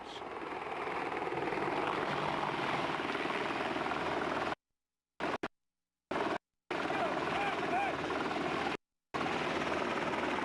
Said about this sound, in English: Fletcher Johnson pans away, then back to catch the Apache as it drops behind a small hill